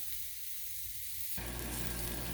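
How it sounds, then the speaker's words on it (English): Tri-tip steak searing on a Blackstone griddle gives a steady close hiss and sizzle that jumps louder about halfway through, then holds there. No one talks. "they've been cooking a little bit. I think we're getting a good sear"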